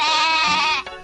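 A cartoon goat gives one loud, close, sustained bleat lasting about a second, alone without talk.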